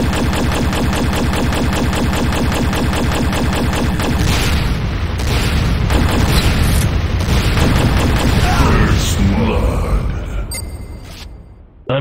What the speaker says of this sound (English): C4 is set. Fire in the hole!